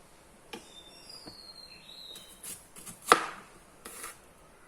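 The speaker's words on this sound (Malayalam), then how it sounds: "ഇനി 2 സവാള എടുത്ത് ഇതും കൂടെ ഇതേമാതിരി പൊടിയായിട്ട് അരിയണം." A kitchen knife finely chopping onions on a cutting board gives a handful of scattered, crisp chops, one noticeably louder than the rest, set against a quiet room with no talking.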